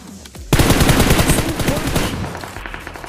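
Sharp automatic gunfire from a mobile battle royale game played on an iPad Mini 6 bursts in loud and close, a rapid run of shots that tapers into scattered reports.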